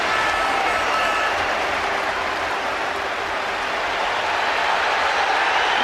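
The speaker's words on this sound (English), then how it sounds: "the applause for Dennis Bergkamp has got even more intense" Dense, sustained applause from a large stadium crowd at Highbury for Dennis Bergkamp during Arsenal's last ever game there, a steady roaring wash of clapping that holds loud and unbroken throughout.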